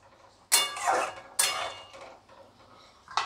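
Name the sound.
covering a pot of fish curry with a lid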